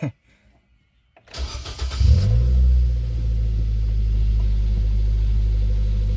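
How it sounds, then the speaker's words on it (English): A Nissan Versa with a damaged muffler and heat shield cranks over after a second of quiet, then settles into a loud, steady idle with a deep, blatty exhaust rumble close to the microphone. "let's go ahead, start her up, see what the car sounds like"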